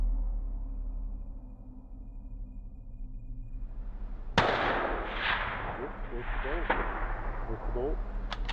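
A single sharp rifle shot cracks out during a sheep hunt, a sudden loud report standing out over a steady background hum, followed by faint rustling and brief distant voices.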